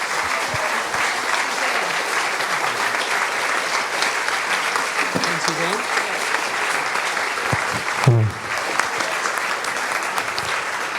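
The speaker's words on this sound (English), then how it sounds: "Please clap our guest speakers." Sustained applause from an audience for guest speakers at a panel discussion, loud steady clapping that runs throughout, with a brief spoken thanks partway through.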